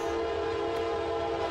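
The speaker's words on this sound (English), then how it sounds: "This train was coming from Elkhart to Chicago." Train running from Elkhart toward Chicago at Chesterton, Indiana, a steady loud rumble with a sustained horn-like tone that holds for the whole short stretch.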